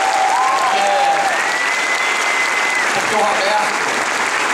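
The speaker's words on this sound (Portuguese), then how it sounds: "eu queria pedir uma imensa salva de palmas a ele" Dense audience applause at the closing of the 'Rock in Rio' musical in São Paulo, a sustained wash of clapping throughout with a voice speaking over it.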